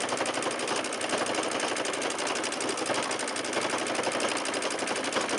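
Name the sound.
sewing machine free motion quilting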